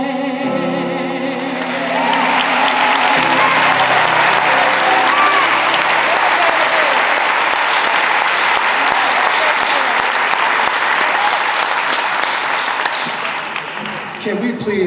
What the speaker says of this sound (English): Can we please give Brandy Johnson the round of applause that she deserves?